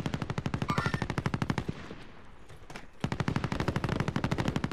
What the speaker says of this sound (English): Those shots, like, right out there.